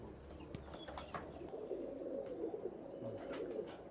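Soft, low cooing of high-line pigeons close by, with a few brief wing flutters and light rustling throughout.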